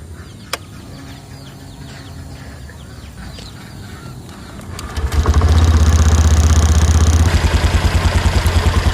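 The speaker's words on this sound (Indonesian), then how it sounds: "Oke, kita langsung nyalain motornya." A 2020 Honda Beat scooter fitted with a Bluemoon exhaust starts after a few quiet seconds, then settles into a close, loud, throbbing idle with a steady low pulsing rumble.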